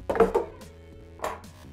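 A blade cuts the outer edges off a block of clear frozen ice on a countertop, giving a few short, close scraping chops in two small clusters over quiet background music.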